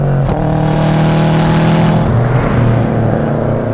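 A Subaru Impreza GT turbo, tuned to about 300 hp, pulls hard along a straight, its loud engine note climbing steadily toward the rev limiter, close and continuous with no voices.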